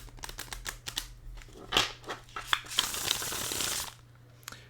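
A deck of well-made poker playing cards with quality cardstock is shuffled close up: rapid crisp flicks and clicks build into a dense riffling burst lasting about two seconds, then stop, with no talking.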